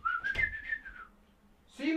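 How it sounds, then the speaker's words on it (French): A person whistles a short rising-and-falling tune, then it stops; a brief voice-like sound follows near the end. "Qui c'est qui siffle?"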